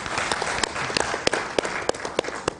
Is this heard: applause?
yes